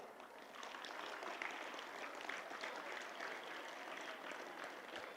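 Steady applause from a workshop audience honouring a pyramid masters team, broad and sustained throughout with no voices over it, fairly distant and even in level.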